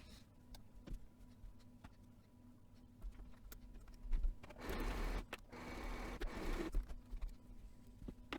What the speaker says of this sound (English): I am going to fast forward me sewing the rest of these finger pieces for you guys